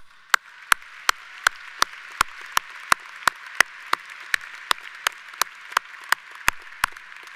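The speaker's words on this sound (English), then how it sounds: "let's please give them, students, a round of applause" Sharp, evenly spaced claps ring out one at a time over a soft wash of crowd applause at an undergraduate college commencement honouring graduating students, about twenty crisp near hand claps in a steady rhythm.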